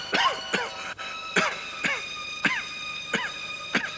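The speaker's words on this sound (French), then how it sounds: "Vous avez une mauvaise toux" A woman coughs hard several times in a row, with harsh, wheezing coughs spaced about half a second apart, close and clear with no talk.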